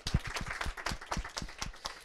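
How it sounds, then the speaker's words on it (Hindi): Audience applause at an antakshari singing competition, a quick burst of scattered handclaps with individual claps distinct, fairly faint and brief. "तालियों के साथ"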